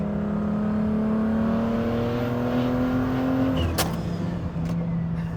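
A 700 hp BMW E39 with a turbocharged engine holds a steady, strained drone whose pitch climbs slowly, heard from close by on a rough road. A brief sharp burst cuts in near the end, and no voices are heard.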